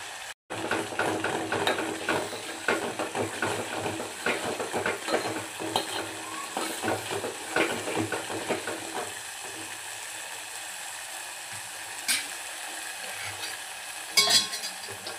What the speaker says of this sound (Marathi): मसाले छान तेल निघेपर्यंत आपल्याला परतून घ्यायचे.